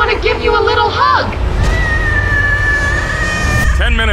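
Cartoon cats in a Poppy Playtime animation, a cluster of high, wavering meows near the start, then a sustained tonal cry, and another meow burst at the end.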